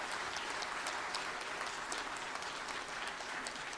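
An audience at a formal GST Day celebration event applauds steadily throughout, a continuous wash of hand claps heard at a moderate distance.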